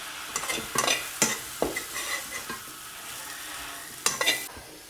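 Food frying in oil in a pan at a festival cook, close stirring scrapes over a soft steady sizzle, with a louder burst of stirring near the end.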